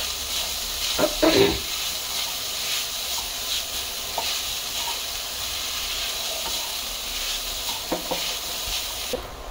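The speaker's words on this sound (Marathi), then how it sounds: "मंद आचेवरती जरा परतून घेणार आहे।" Grated coconut sautés in a pan on a low flame for finger millet modak, a soft continuous sizzle with occasional scraping stirs, heard close and alone.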